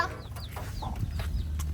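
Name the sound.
chickens clucking in a chicken coop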